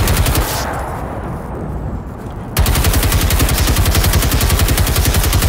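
A gun empties its magazine in the video game Generation Zero: a loud, rapid, evenly spaced burst of shots starting a little past halfway and running to the end, after a short burst and a quieter lull.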